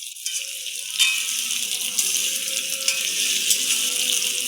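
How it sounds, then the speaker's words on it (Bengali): Amla (Indian gooseberries) sizzling steadily in hot oil as they are stirred, a dense, even crackle with a few louder spits, close by and with no talk. "সবগুলো আমলকি ওই তেলে দিয়ে দেব। দিয়ে নাড়িয়ে নেব।"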